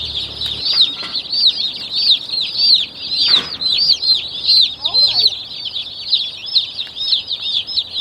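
About 150 chicks in an outdoor portable brooder coop keep up a constant dense chorus of shrill peeping, with a brief flutter of wings and a few low clucks underneath.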